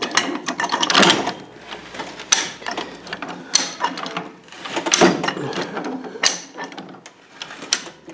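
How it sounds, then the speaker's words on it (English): Ratcheting clicks and mechanical clatter from a handyman jack being worked to shift a big truck's fifth wheel forward during an air bag replacement, coming in repeated bursts up close with no talk. "I'm just going to take this handyman jack and just move that fifth wheel forward."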